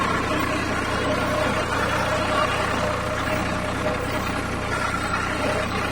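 A tractor engine runs steadily at a farm, a constant close rumble that does not change for the whole stretch, with no clear talk over it.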